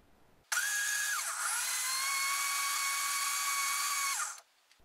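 A Xiaomi Smart Blender whirs loudly and steadily for about four seconds, its motor pitch shifting slightly as it chops, then cuts off abruptly.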